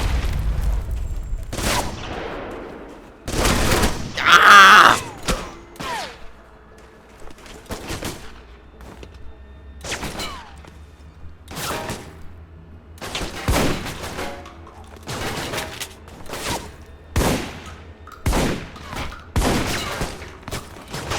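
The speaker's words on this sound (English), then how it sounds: "How many goddamn grenades do these assholes have?" Grenades burst and guns fire during a firefight in the video game Alpha Protocol, with loud, sharp blasts repeating irregularly across a long stretch and short rattling bursts between them.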